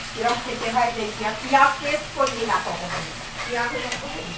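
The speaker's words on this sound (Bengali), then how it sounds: "তেলের উপরে মশলাটাকে কষিয়ে নেব" Spice paste frying in oil with whole chillies, a steady sizzle with spoon scraping and stirring against the pan, close and fairly loud, a voice talking over it.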